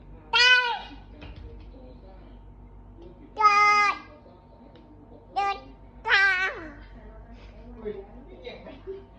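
A cat gives four drawn-out, wavering meows spaced a couple of seconds apart, fairly close and clear over a quiet room, with a softer call trailing at the end.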